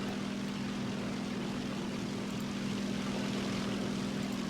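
Propeller aircraft engines droning steadily in War Thunder, a J6K1 fighter flying amid many allied planes; a continuous, even hum with a strong low tone holds throughout at moderate level, with no talk.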